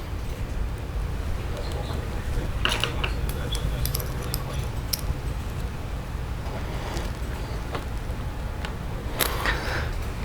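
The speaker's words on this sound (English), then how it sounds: "Get the antenna mount in, and the washer, my 8mm screw." Small parts are fitted to a Tamiya Comical Grasshopper model, an antenna mount, washer and 8mm screw, giving brief light clicks and scrapes over a constant low background hum, with talk throughout.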